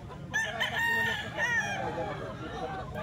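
A young grey stag rooster crows once, close and loud: a drawn-out, wavering cry lasting a couple of seconds over faint background noise.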